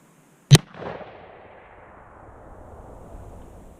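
A single loud, close gunshot from a Remington Model 788 rifle in 6mm, fired outdoors at dusk, with a sharp crack followed by a rolling echo that fades over several seconds.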